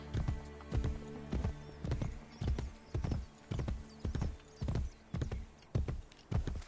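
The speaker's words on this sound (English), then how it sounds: "Good horse." Hooves clip-clop in a steady, even rhythm, a horse moving at a quick pace in the video game Assassin's Creed: The Ezio Collection, close and fairly quiet, with no talking.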